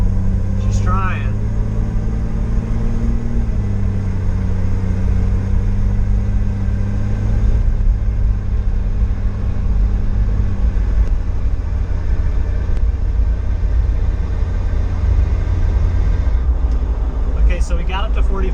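A car with a check engine light fault drives at around 45, its engine a steady loud rumble with a shift in pitch partway through as it runs continuously, brief voices near the start and end.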